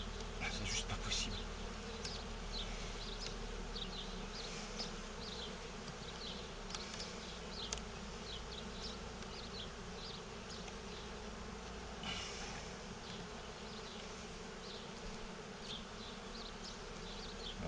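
Honey bees buzz around an open Dadant hive, a steady, faint swarm hum with individual bees droning past the microphone now and then.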